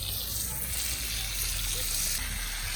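Frozen potatoes frying on a camping stove outdoors by a lake, a steady even sizzle and hiss held close throughout, with no break in the crackle.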